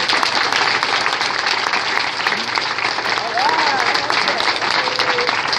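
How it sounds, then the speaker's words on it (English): A conference audience at an ACLU keynote applauds loudly and continuously throughout, with a faint voice or two rising above the clapping. "Now give yourself a round of applause if you believe it."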